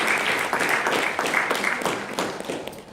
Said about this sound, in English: So, big round of applause to Mango Languages for being the third company to sponsor this event.